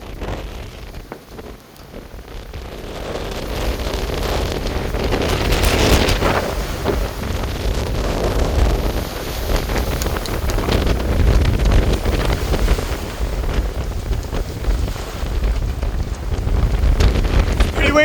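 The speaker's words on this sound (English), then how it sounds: "really windy." Strong wind buffets the microphone aboard a sailboat at sea during a solo Atlantic crossing, a steady loud roar with gusts and water rush running throughout.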